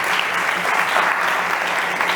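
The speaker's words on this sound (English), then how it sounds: "Big applause for Miguel, please." Sustained applause fills a startup competition stage, a steady dense wash of clapping from an audience at constant volume with no pauses.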